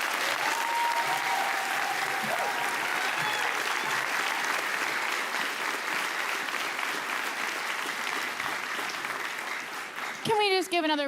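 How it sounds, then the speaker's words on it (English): Sustained audience applause at the Summer Solstice Indigenous Music Awards, thick and continuous with voices mixed in, then fading toward the end as a sharp burst of louder sound cuts in. "Can we just give another round of applause to all of our elders?"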